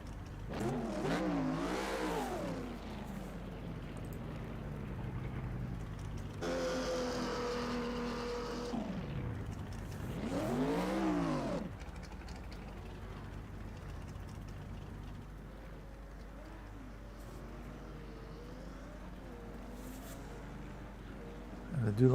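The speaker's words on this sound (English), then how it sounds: "The scream of like the Ferrari is really great. We've got this rumble as well from the Cobra." Race cars in the rFactor 2 racing game, a Ferrari and a Cobra at Goodwood, revving and shifting in rising and falling sweeps, loud and up close, with engine tones climbing through the gears.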